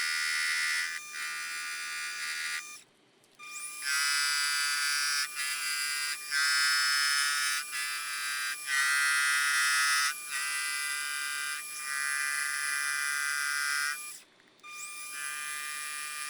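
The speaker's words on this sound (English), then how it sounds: "I can turn it down on the lathe." A metal lathe cleans up the edge of a rough polygonal aluminum disc cut from half-inch stock, making it round for a rotary table rehab; a loud, steady high whine and buzz runs continuously, dropping out briefly twice.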